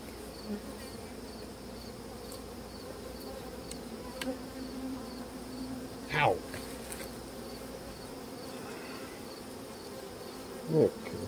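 Honey bees hum in a dense, steady drone while a hive is being split, close and continuous, with a couple of louder individual bees swooping past the microphone.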